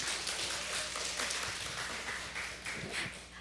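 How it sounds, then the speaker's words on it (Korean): Audience applause at an evening forum gathering, welcoming a woman to the front; a steady, moderately distant wash of clapping across the whole stretch with no speech over it. "우리 가장 큰 박수로 우리 환영합시다"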